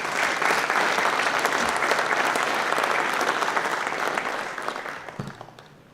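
An audience at a hemispheric security conference applauds as Ambassador Ayalde is welcomed to the stage, steady dense clapping that holds strong for several seconds and then tapers off.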